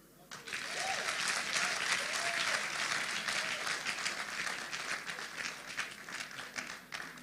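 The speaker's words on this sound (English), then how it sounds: "Keep clapping as Odd Felix makes his way here." An audience at a debate event applauds, dense loud clapping that swells in quickly and holds steady, then thins slightly toward the end.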